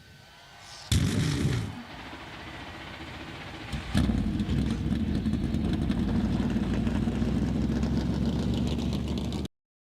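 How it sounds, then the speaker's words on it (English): NASCAR Cup Series race car engines fire up together at Texas Motor Speedway, a sudden loud roar followed by a second burst of ignition, then a sustained, dense field of heavy engines idling and rumbling steadily without pause. "Drivers, start your engines."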